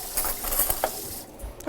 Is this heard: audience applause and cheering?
no